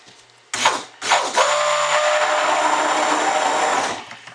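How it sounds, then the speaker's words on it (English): A stick blender mixing soap batter with scent oil whirs on in two short bursts, then runs steadily for about three seconds before shutting off, close and loud with no talking. "Just get a tiny bit of stick blending with the scent oil to help it accelerate."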